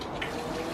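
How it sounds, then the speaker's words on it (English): A garden water feature runs with a steady, continuous splash and trickle, fairly close and unbroken, with no voices over it. "I've just popped the water feature on as well"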